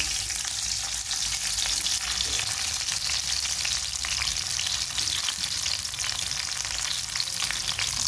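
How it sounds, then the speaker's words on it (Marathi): Cleaned cauliflower florets fry in hot oil in a home kitchen, a steady, dense crackling sizzle that holds evenly for the whole stretch without pause. "आता याला थोडंसं सोनेरी रंगावर आपल्याला छान फ्राय करून घ्यायचं आहे"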